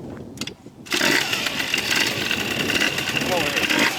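A stock Gilera Runner 180 scooter engine bursts into a loud, steady running roar after a brief quiet moment, held close with a buzzy, even drone.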